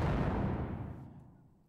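A synthesized low noise blast, the bulk layer of a grenade explosion effect built on a software synthesizer, roars out at once as a dense, deep rumble and then fades steadily over under two seconds, heard alone.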